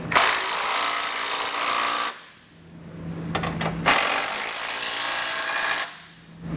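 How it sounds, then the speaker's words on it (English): A power tool drives a 19mm socket to snug up base plate bolts, whirring loudly in two long bursts with a short pause and a clicking fiddle between them. "come back with a 19mm socket and snug up both the bolts"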